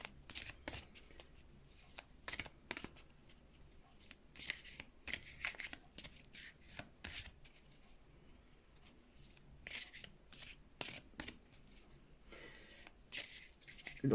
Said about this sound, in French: Et après, je les remélange.